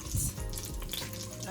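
Kuma toasting and sizzling in a pot before curry is added for pumpkin and codfish talkari, a soft steady frying crackle, close and quiet throughout.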